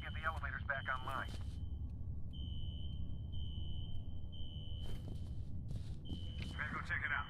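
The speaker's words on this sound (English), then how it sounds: "A fire alarm." A fire alarm in the F.E.A.R. video game sounds as a steady high electronic tone in broken stretches, under game noise and people talking.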